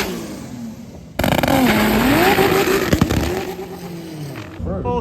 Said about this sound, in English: Here comes my 2JZ Starlet.